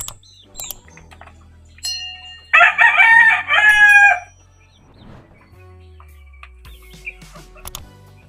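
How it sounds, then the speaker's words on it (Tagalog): A red rooster, a two-time winning cock and father of the chicks, crows once nearby in a single loud, drawn-out call, with scattered clucks and farmyard clicks around it in an otherwise quiet yard. "Yung 2 times winner pa naman na tandang yung tatay nila dyan."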